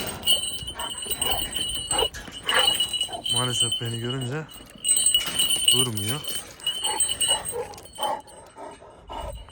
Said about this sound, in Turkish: Yani sert bir köpek.